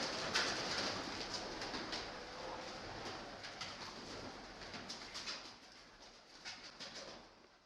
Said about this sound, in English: Being occupied by the pigeon population.